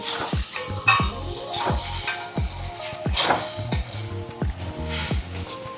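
Veg fried rice stirred in a pan just after lemon juice goes in: a spatula scrapes and clinks against the metal in a quick, repeated rhythm over a steady sizzle, close and loud, no talking.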